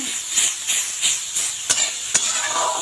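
Radish pieces stirred in a cooking pan with a steady steamy hiss and a regular scraping rhythm of the spatula, plus two sharp metallic taps near the end; no one talks.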